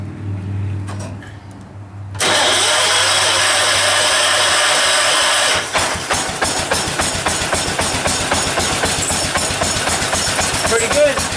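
Wheel Horse garden tractor, being prepped for a show, has its engine cranked by jumping the solenoid and then starting. A low hum gives way to a loud steady whir, followed by a rapid rhythmic chugging as the engine runs.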